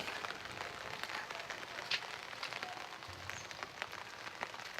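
Light rain patters on a garden with scattered distinct drops over a soft background hiss, fairly quiet and with no speech.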